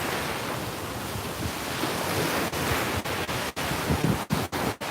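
Steady wind roaring and buffeting across a microphone outdoors, with rushing noise throughout and a few sharp gusty dropouts near the end.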